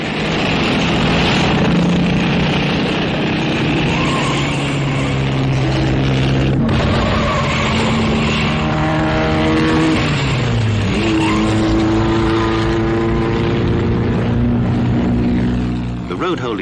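Several vintage Fiat racing cars roar past under steady engine drone in a 500-mile race, their pitches rising and falling as they accelerate, with a commentator's voice speaking over the noise.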